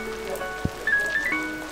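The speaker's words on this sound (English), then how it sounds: "Even though it's raining, the guys have found ways to carry the job on." Rain falls on a building site on a wet Thursday, a soft, continuous patter with a faint tonal hum underneath and no voices.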